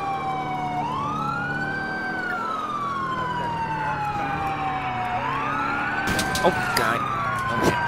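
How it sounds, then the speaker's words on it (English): An ambulance siren in the LCPDFR police patrol game wails in repeated rising and falling sweeps, loud and close, while a man exclaims briefly over it near the end. "Get out of my way, you ambulance!"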